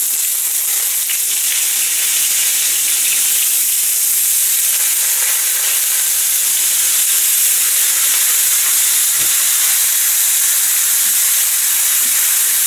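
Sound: cod steaks frying in olive oil

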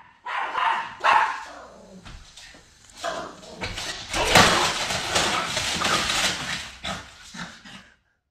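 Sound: dog barking as the family's mail arrives

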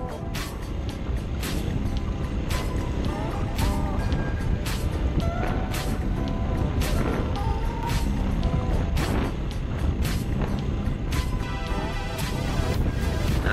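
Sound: CSC TT250 dual sport motorcycle being ridden

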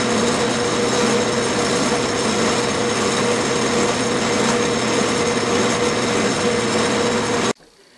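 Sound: reaming a hole on a machine tool

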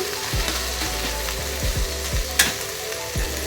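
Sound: stirring and frying potato-onion filling in a pan

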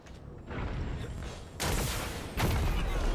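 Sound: rocket explosion in Destiny 2 video game

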